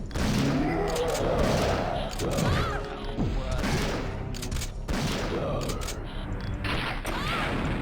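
Shotgun blasts in the survival horror game Resident Evil 3, several heavy booming shots spaced a second or two apart over a dense, loud din of crashes and thuds, with a voice talking in between.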